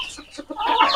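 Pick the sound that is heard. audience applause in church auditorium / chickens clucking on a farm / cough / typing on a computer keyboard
chickens clucking on a farm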